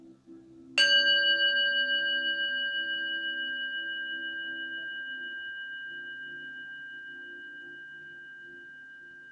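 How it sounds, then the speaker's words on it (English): A single bell strike rings out clearly, then a long, pure tone slowly decays over several seconds, with a faint low hum in the background. "So let's listen very carefully to the sound of the bell."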